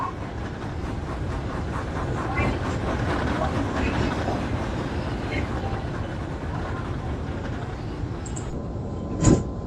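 A train rolls along steadily with a dense mechanical rumble and faint rhythmic clatter, ending in a sharp brief hiss.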